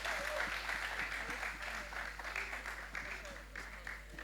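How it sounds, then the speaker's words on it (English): Audience applause at an award presentation for a building competition, a broad, steady patter of many hands clapping, moderately distant, with a low constant hum underneath. "A round of applause for them."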